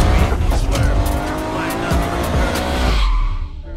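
A 12,000 RPM V8 engine in a BMW 1 Series race car screams at high revs, loud and close, with tire squeal in the mix, before it cuts off sharply near the end.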